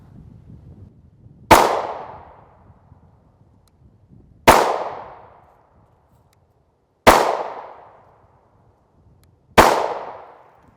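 A Ruger 5.7 pistol with a 5.5-inch threaded barrel fires Fiocchi 5.7x28mm 40-grain ballistic tip rounds. Four sharp, loud shots come at slow, even intervals, each followed by a short decaying ring, with no talking.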